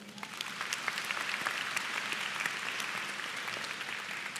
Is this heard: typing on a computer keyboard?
no